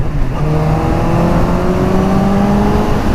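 A motorcycle engine roars loud and close, its pitch climbing smoothly as the throttle rolls on in top gear over a constant rush of wind.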